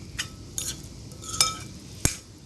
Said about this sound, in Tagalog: Add to the salad, mix together, a bit of honey